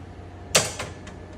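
An IGT slot machine door is pushed shut, giving a sharp single clack followed by a softer rattle and a faint trailing click, close and alone.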